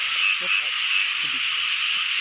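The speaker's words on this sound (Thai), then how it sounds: "ก็ได้ยินเสียงกบอยู่" Frogs croaking at night near a pond where frogs and toads are being caught: a dense, continuous chorus of calls, steady and loud, with a few faint voices and handling noises underneath.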